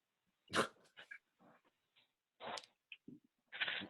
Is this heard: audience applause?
no